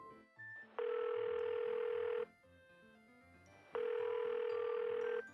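A telephone line gives two long, even electronic tones with a quiet gap between them while a call is placed, clear and close with no talk over it.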